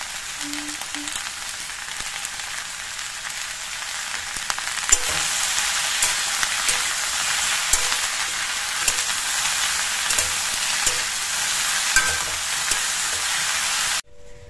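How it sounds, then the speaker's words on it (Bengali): Green chilies with turmeric and salt fry in a pan, making a steady, moderately loud sizzle with occasional stirring clicks that stops abruptly near the end. "এবারে হলুদ আর লবণটা দিয়ে দেবো, একবারে ভেজে নেবো"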